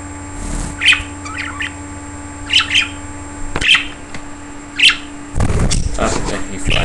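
Pet budgies give short, bright chirps and squawks in scattered bursts, close and fairly loud, ending in a stretch of fluttering, rustling noise.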